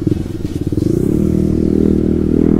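Motorcycle exhaust revs up close and loud, starting with sputtering pops that merge into a steady throbbing drone as the engine climbs.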